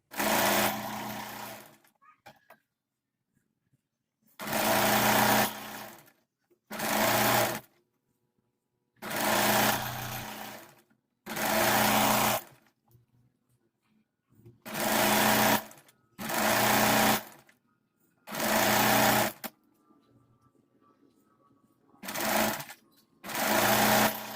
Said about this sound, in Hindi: तो चलिए अब इसमें भी सिलाई लगा लेते हैं।